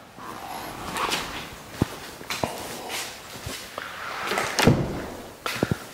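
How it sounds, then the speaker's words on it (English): Large sliding patio door rolling open in a newly built Texas model home, a series of sharp clicks and thuds over a rumbling glide, close and moderately loud with no talk. "can open this whole door open and really enhance your living space"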